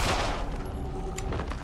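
Pistol shots in a shooter video game, a quick burst of sharp cracks up close in a short stretch, loud at the start and fading into a few softer reports.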